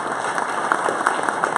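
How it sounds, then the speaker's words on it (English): Audience applause at an augmented reality meetup, a steady wash of clapping from a small crowd, fairly close and continuous for a short moment. "Big round of applause for Alexis, everybody."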